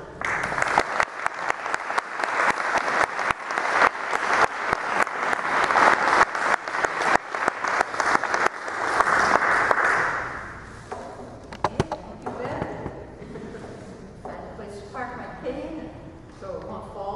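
Audience welcoming Rhoda Gilman to a presentation in Baxter, Minnesota, a loud sustained round of applause lasting around ten seconds, then fading into scattered claps and room noise.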